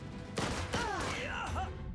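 Gunfire in the strategy game Last Train Home: three or four crisp shots, moderately loud, mixed with whistling, warbling tones and a low rumble of battle.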